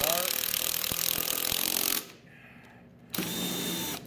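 A power drill drives screws into a DIY scratch-built 2x72 belt grinder frame, one loud whirring burst, a short pause, then a second steady run close by.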